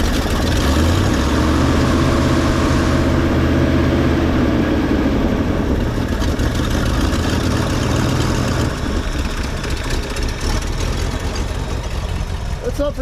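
A 1966 Ford Mustang with a 289 V8 idles steadily up close, a deep continuous rumble that runs unbroken throughout, slightly rough and loping near the end.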